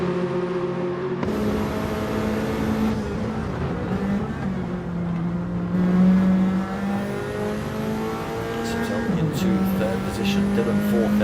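Nissan race car in a GTTCC sim-racing round, its engine droning steadily with rising and falling pitch through gear changes and revs, loud and close, with a commentator talking over it.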